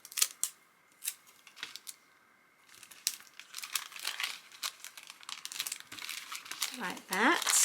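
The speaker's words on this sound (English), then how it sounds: "We are going to grab some tape and seal up the top" Tape is pulled and pressed over the top of a handmade paper envelope for a junk journal, making close crinkles, a sticky rip and rustling handling in irregular bursts, with a brief voice near the end.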